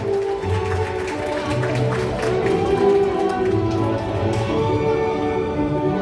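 Guests at a wedding hall ceremony clap again, a continuous crackling spread of applause layered over sustained background music tones, moderately loud and even across the whole span.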